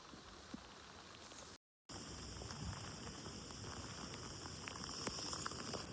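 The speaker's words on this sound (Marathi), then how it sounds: "खूप पाऊस आलाय." Heavy monsoon rain pours steadily during a trek to Mruggad fort in Maharashtra, a dense, close hiss of drops with one brief gap, with no voices.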